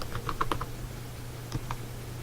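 Quick burst of keystrokes on a computer keyboard, then two more isolated taps after a pause, close and quiet over a low steady hum, with no talking.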